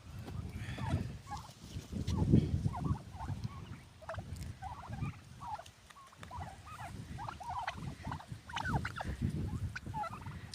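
Several turkeys fight and gobble in bursts in a garden, with rustling and scuffling close by; the calls overlap and repeat irregularly at a moderate distance.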